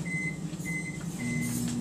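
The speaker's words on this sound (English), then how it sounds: "we're going to go put this in the microwave for 90 seconds" A microwave oven runs on a kitchen counter heating a bowl of brown rice, a steady low hum with a faint tonal whine and a few soft high beeps over it, no talk.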